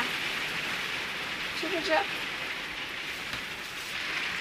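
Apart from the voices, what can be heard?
heavy rain falling on a vehicle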